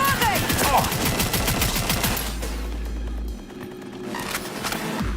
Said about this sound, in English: Went with the noisy gun.